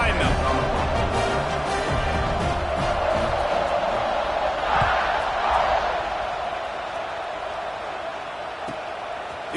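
A football stadium crowd at Texas A&M versus Alabama roars before the kickoff in a loud, constant wall of cheering and noise that eases slightly toward the end, with a broadcaster talking over it.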